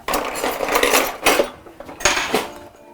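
A whisk and other utensils clink and scrape against a mixing bowl in a kitchen, close and fairly loud. The irregular metallic clatters come in a few separate bursts with short pauses between them.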